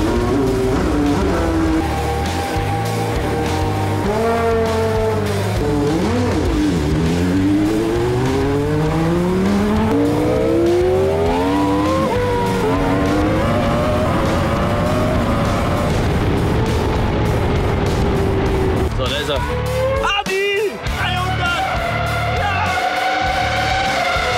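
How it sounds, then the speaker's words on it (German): A Formula 1 car at full throttle screams through its gears in rising and falling high-pitched engine sweeps, loud and sustained, as it laps a race circuit, with brief downshift bursts near the end. "Ich höre noch, wie sie Vollgas geben"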